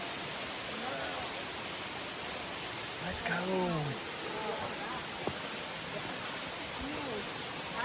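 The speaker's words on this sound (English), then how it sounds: "Look at the waterfall." A waterfall at Lula Lake Land Trust near Chattanooga gives a steady broad rushing hiss, moderately distant, while people speak briefly over it.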